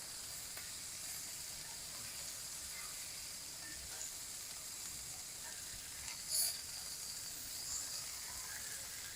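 Beef chunks searing in a hot pan for a beef and barley stew, giving a steady, even sizzle with soft crackles and one brief louder pop, no voices.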